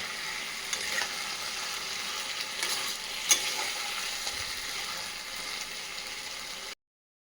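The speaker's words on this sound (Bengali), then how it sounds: "এবার কষাচ্ছি খুব ভালো করে।" Chicken is stir-fried with spices in a pan for chicken kosha, giving a close, steady sizzle with light scraping and stirring throughout, no voices, before it cuts off to silence at the end.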